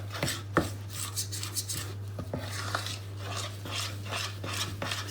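A spoon scrapes the sides of a bowl and stirs thick, sticky gingerbread mixture, giving rhythmic rasping strokes and soft knocks, close up over a low steady hum.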